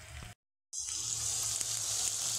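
Chopped onions and whole cumin seeds sizzle in hot oil for egg tadka, a continuous bright frying hiss that briefly cuts out, then resumes steadily with occasional soft ticks.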